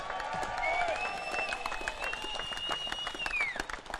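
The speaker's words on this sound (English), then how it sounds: "Give them a big round again." Crowd applause and cheering at a STIHL TimberSports New Zealand championship event, a steady dense wash of clapping held loud for about four seconds with a sustained whistle-like tone riding over it.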